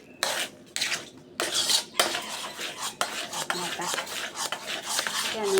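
Sweet soybean dessert filling being stirred in a pan, with a utensil scraping and rasping against the metal in repeated strokes of uneven rhythm, loud and close.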